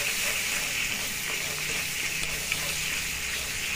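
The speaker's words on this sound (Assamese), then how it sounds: "এতিয়া অলপ দেৰি ভালকৈ ভাজি লওঁ।" Pork pieces seasoned with salt and turmeric fry in hot oil in a pan, giving a steady, close, unbroken sizzle with a few faint pops.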